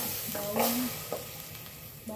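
Garlic and onion dropped into a pan to sauté, giving a steady close sizzle with a brief stirring scrape.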